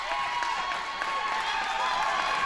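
A large indoor crowd at a girls' varsity basketball game roars and cheers continuously, a dense wash of voices and applause that holds steady throughout.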